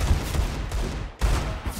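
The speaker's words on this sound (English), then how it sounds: "I was getting shot at, I was reloading." Gunfire crackles during a video game shootout: rapid, close bursts of shots in quick succession, broken by a brief pause before another volley.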